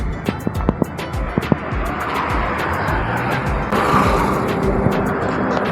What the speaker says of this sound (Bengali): আর এই হচ্ছে কোলাঘাট হাইওয়ে